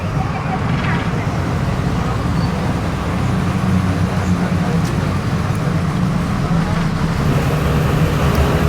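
A long-distance bus rolls along a road in India with a constant low rumble of engine and road noise, while muffled voices sit faintly in the background.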